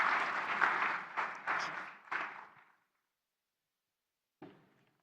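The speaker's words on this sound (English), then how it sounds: "A round of applause for this wonderful panel" Conference audience applauding a panel at a technical conference in Mauritius, a short burst of clapping that fades out after about three seconds, then a brief isolated knock.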